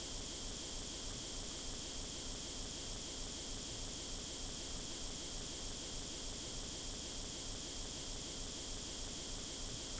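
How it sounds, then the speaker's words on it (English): Steady, even hiss of spray paint being applied to a tank in Tank Mechanic Simulator, continuous and unbroken from start to finish with no voices. "Let's get out the spray paint."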